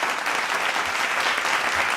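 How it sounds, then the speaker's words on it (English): An audience at an award ceremony in a hospitality and tourism event gives a full round of applause, dense even clapping that holds steady throughout. "Give a big round of applause."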